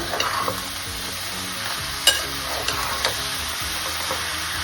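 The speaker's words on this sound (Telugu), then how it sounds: "ఇప్పుడు ఇందులో బీరకాయలు వేసేసుకుందామండి బాగా హైలో పెట్టుకొని" Ridge gourd pieces sizzle in a pan over high heat as a utensil stirs and scrapes through them, a continuous close frying hiss broken by a few sharper knocks, with no talking.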